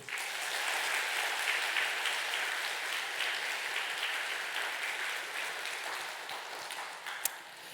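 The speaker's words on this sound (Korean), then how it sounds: "우리 힘차게 박수" A church congregation applauding during a Sunday worship service, a broad, steady wash of clapping from a large room that holds evenly, with one sharp louder clap near the end.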